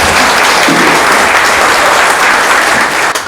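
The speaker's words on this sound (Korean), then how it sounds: "큰 박수로 맞이해 주시기 바랍니다." Loud, dense applause from an audience in a small auditorium welcoming a speaker at a local-election academy event, continuous and close, tapering slightly at the end.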